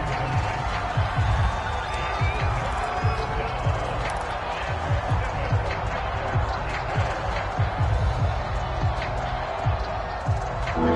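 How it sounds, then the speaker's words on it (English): A stadium crowd roars steadily throughout an American football game against the Colts, a dense wash of cheering and noise lying under ongoing commentary. "The crowd getting into it as we come up on a big 3rd down"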